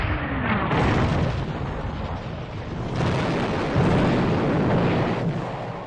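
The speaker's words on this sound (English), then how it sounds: "The British open fire." British naval artillery firing on French ships, a heavy continuous roar of guns and explosions with rumbling booms swelling and fading, dense and distant like a wartime newsreel soundtrack.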